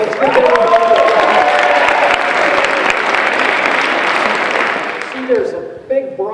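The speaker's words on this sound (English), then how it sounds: "Let's give them a round of applause." An audience applauds a group of fourth-grade schoolchildren, with loud continuous clapping for about five seconds while voices talk over it, then the applause fades and speech carries on.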